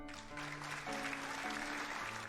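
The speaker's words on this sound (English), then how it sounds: "The crowd ripples with excitement, cheering and whistling as Chevalier steps down." Video game crowd cheering and whistling at a spring festival banner unveiling, a steady dense wash of voices with sustained tonal whistle-like lines throughout, loud and continuous.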